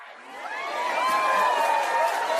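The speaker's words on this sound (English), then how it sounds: "Resounding applause." Applause and cheering from a crowd swell up and hold steady, a broad wash of clapping with some whistling tones riding over it.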